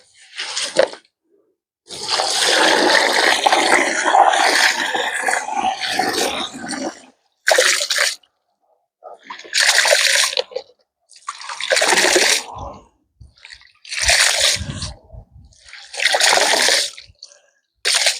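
Red rice being rinsed by hand in a basin of water, with bursts of sloshing and splashing that stop and start in an irregular rhythm, close and fairly loud, with no voices.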